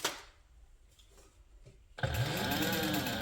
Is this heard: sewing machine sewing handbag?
yes